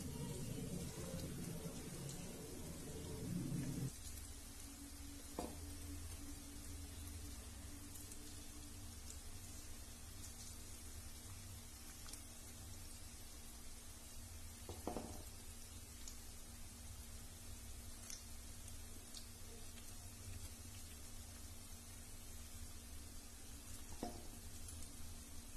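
Onion pakoda batter frying in hot oil, a faint, steady crackling sizzle that runs throughout, with a few soft clinks and a brief louder patch near the start.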